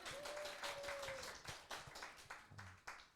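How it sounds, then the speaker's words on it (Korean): A small congregation at a university-group church worship service claps, producing faint, scattered claps in uneven bursts with a brief tone near the start. "평소에 박수 쳐라 이것들아"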